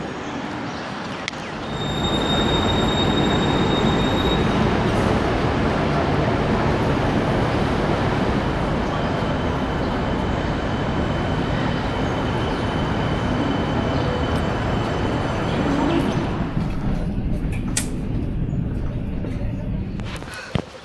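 Continuous loud rumble and rattle of a Melbourne train rolling along rails, heard from onboard, steady throughout with a faint high whine overhead.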